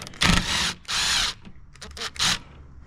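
Power drill or driver spinning out the 7mm headlight bolts on a Ford Super Duty, giving several short, close whirring bursts separated by brief pauses.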